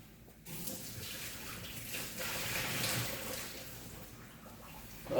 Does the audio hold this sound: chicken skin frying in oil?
no